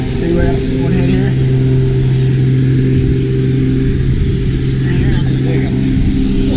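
A helicopter engine run heard from nearby on the ground, a steady droning engine hum with strong tonal bands that holds constant throughout while a person talks over it.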